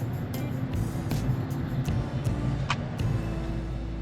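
Rush hour road traffic in Colorado Springs, a steady low rumble of car engines and tyres from several vehicles with brief louder swells, no voices.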